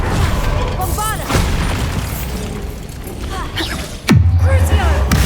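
Bombarda blasting curse in Hogwarts Legacy gameplay on PS5: a loud booming explosion bursts out suddenly and leaves a deep sustained rumble, following a stretch of busy combat effects, whooshes and a game voice.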